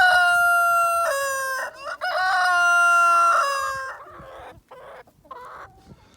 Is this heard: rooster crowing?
yes